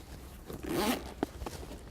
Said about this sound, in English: Nice chunky zips again, as with all the other hardcore stuff.